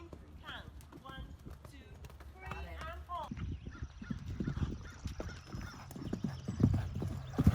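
Horse trotting under a rider, rhythmic hoof clip-clops growing louder with snorts or whinnies, and people talking over the first seconds.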